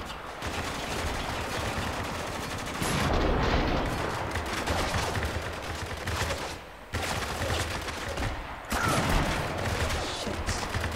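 Dense gunfire and explosions from the video game Spec Ops: The Line roar continuously, a loud wash of overlapping shots and blasts with brief drops in intensity between sustained barrages.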